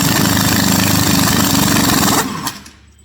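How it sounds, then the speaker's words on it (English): Cheap impact wrench hammering loose a 35mm axle nut on a Bandit 2550 stump grinder, a loud continuous rattling burst that cuts off abruptly, leaving a brief fading tail. "This is just a cheap impact"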